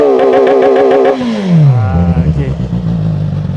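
An SRK450RR motorcycle with a full-system exhaust and its valve open revs to a steady high pitch, then drops to a lumpy idle, loud and close.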